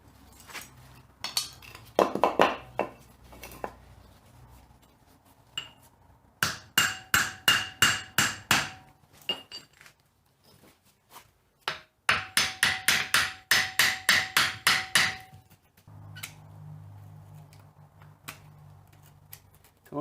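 Sharp metal-on-metal hammer blows on the steering arm and knuckle of a Toyota axle, struck in quick rhythmic bursts of about eight to ten hits with short pauses between, loud and close, with no talking.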